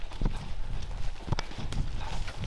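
Horse hooves clip-clop at a walk during a night ride in Mongolia, several close, uneven strikes with a faint background.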